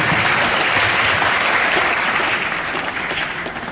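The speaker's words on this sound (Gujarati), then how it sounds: "આપણે ફરીથી તાળીઓ પાડી શકીએ" Sustained applause from a crowd honouring students with full attendance and their parents at a Gujarati school admission and girls' education festival, dense and steady, fading slightly toward the end with no voices over it.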